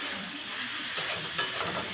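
Potatoes hitting hot oil in a kadai while a Bengali rui fish curry is cooked, giving a steady close sizzle and hiss with a couple of soft stirring scrapes.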